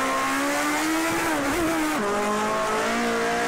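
A race car in Project CARS 2 drops from a higher gear to third with a heel-and-toe blip; a loud, steady engine tone rises, jumps briefly, then falls to a lower pitch as the revs settle, with no talking.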